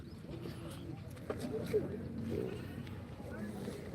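Goats bleat at a busy livestock market, a few short calls rising over crowd murmur and open-air background noise, moderately close.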